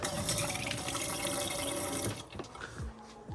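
Filtered drinking water runs from a kitchen faucet under an under-sink filter and ultraviolet light setup, a steady broadband rush for about two seconds that then cuts off, leaving faint drips and small clatters.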